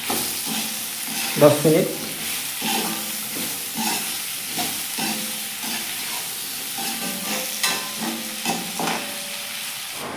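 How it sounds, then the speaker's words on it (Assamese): Cut radish, potato and ginger frying in a pan: a steady sizzle and hiss throughout, with repeated stirring scrapes and a louder knock of the spoon early on, no talk over it. "এতিয়া আমি কাটি ৰখা এই মূলা আৰু আলুখিনি দি দিম লগতে আমি অলপ আদা কাটি ৰাখিছিলোঁ আদাখিনিও দি দিম ফ্ৰাই কৰিম"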